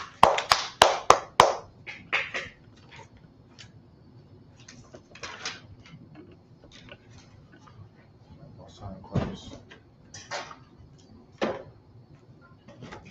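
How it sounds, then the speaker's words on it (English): Audience applause for a class at a Harlem, New York gathering, a loud burst of several sharp claps in the first couple of seconds, then scattered fainter claps and taps over a low murmur of voices. "Clap it up for the class."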